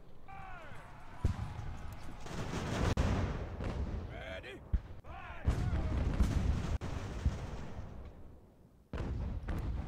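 Booming artillery and mortar fire rolls through a naval battle in Ultimate General: American Revolution, with loud repeated blasts, whistling incoming shells and sharp cracks in a dense, continuous barrage.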